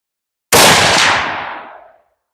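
A single loud gunshot from a firearm, an abrupt close blast followed by a long, fading echo that rolls away over about a second and a half, with nothing else heard.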